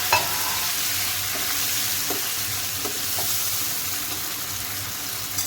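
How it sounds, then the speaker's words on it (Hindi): Tomato, green chillies and ginger fry with onions in a pan, a steady loud sizzle with occasional soft scrapes and taps of stirring, close and without talk. "अब इसमें मैं टमाटर, सब्ज़ मिर्चें, अदरक की ऐड कर दूँगी और इसको मैं भून दूँगी"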